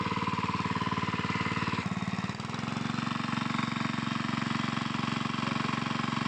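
Honda GK200 small engine driving a water pump, running steadily and loudly up close with a fast even chug, a brief dip in the middle before settling back to a constant drone.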